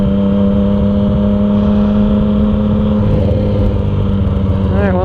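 A Yamaha FZ-09 motorcycle fitted with an Arrow exhaust, dB killer removed, idles and runs with a steady deep engine drone close by, the pitch shifting slightly partway through as it revs.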